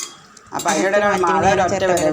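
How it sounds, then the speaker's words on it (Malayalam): A spoon stirs lunch in a pot of red cowpeas and pumpkin, giving close metallic scrapes and clinks that start after a quiet opening and go on steadily. "പിന്നെ സ്പൂൺ എടുത്തിട്ട് ഇളക്കുകയാണ് കേട്ടോ"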